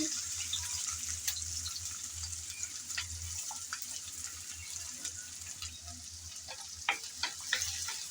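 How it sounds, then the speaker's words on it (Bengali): Dried red chillies, chopped garlic and onion frying in hot oil, giving a steady soft sizzle with scattered crackles and pops, close but quiet, with a low hum underneath and no talk. "গরম তেলে দিয়ে দিলাম তিনটার মতন শুকনা লাল মরিচ শুকনা মরিচ তারপর দিয়ে দিচ্ছি রসুন কুচি তারপর দিলাম পেঁয়াজ কুচি"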